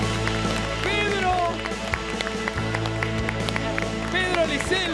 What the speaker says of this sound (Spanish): Bien fuerte el aplauso entonces.